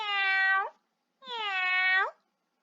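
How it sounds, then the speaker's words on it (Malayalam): Two clear, close kitten meows, each drawn out for most of a second, separated by a short silence, with no other sound around them. "പൂച്ചക്കുട്ടൻ എങ്ങനെയാ കരയുന്നത്?"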